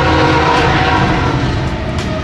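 Freight train rolling past loudly and close, a sustained horn blast over the heavy rumble and rattle of railcars, with no voices.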